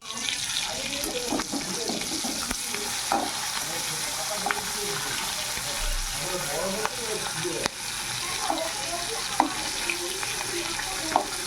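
Prawns frying in hot oil in a pan, a dense, even crackling sizzle that runs throughout with scattered pops and light utensil clicks, close and steady, faint background voice at most.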